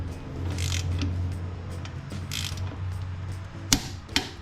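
A ratchet tightens axle U-joint bolts on an FL350R, quiet repeated clicking under a low steady hum, ending in two sharper metallic snaps near the close.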